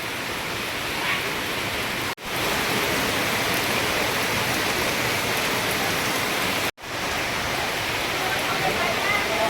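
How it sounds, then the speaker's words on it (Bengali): Heavy rain pours down outdoors as a steady, broadband hiss at close range. The downpour cuts out abruptly twice, and voices sit faintly beneath it. "বৃষ্টির মধ্যে সব গোল টেবিল করছে, চারিদিকে বৃষ্টি হচ্ছে"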